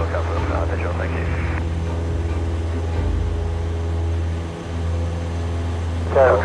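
A Cessna 172 light aircraft engine drones steadily in flight between North Weald and Lydd, a constant near propeller hum heard from inside the cabin, with radio chatter and voices briefly over it.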